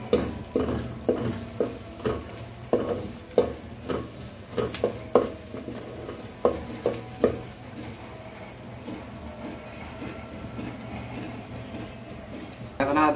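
Ginger-garlic paste fries in hot oil for bhuna khichuri, with a spoon scraping the pan in quick, regular strokes over a constant close sizzle that briefly eases off before the stirring resumes.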